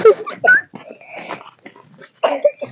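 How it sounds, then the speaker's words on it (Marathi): A dog on a farm gives a few short, close yelps and whining cries in uneven bursts, with quiet gaps between them. "किती मस्त क्यूट कुत्रा आहे हा."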